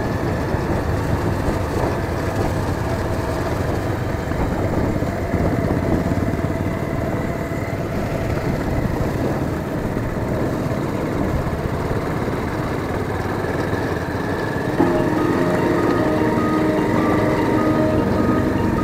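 An ABS-model motorcycle engine runs smoothly and steadily for the whole stretch, a constant close-up drone with mild rises in pitch while riding through mountain valley country, with no talk.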